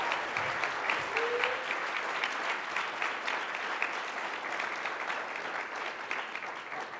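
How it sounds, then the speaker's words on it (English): A conference audience gives a steady round of applause, continuous dense clapping from a large crowd in a hall that holds an even level throughout, with a faint voice briefly audible early on. "can we give him one more round of applause here?"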